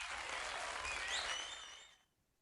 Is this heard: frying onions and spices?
no